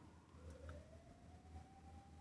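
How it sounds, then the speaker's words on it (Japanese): A fire engine siren passes outside, heard at a distance as a long, steady wail rising and falling faintly over low background rumble. "これ消防車か。 消防車だね。"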